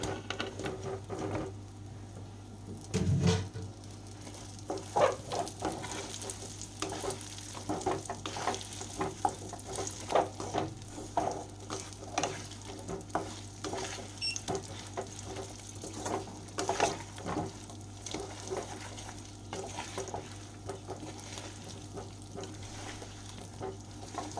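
Olive pickle being stirred in hot oil in a pan, a soft, busy patter of scraping and sizzling that runs steadily throughout at a fairly quiet level, with one brief louder knock near the start.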